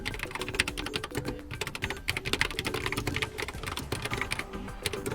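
Steady, rapid typing on a Xiaomi wireless keyboard, close and clear, with dense overlapping key clicks throughout and no voices.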